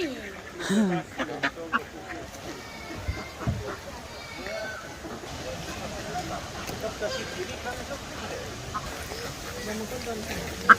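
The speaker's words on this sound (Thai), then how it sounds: "ทั้งเป็ด" Ducks quack in short, scattered calls at a zoo in Austria. The quacks come mostly early and sound moderately near, while people talk around them and the background stays busy.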